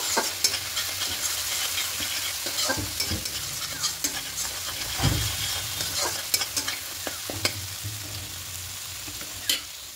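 Ground coriander, cumin and Kashmiri chili powder stir-fried in a pan, a steady sizzle broken by scraping, clattering spatula strokes throughout, fairly close and with no voices.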